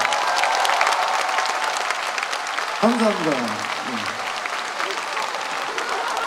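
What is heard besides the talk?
audience applause for drummer at orchestra concert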